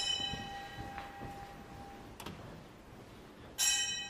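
A bell in a Zen monastery is rung to wake the young priests for meditation: faint wooden clicks, then one bright, ringing strike near the end that hangs over a steady hum.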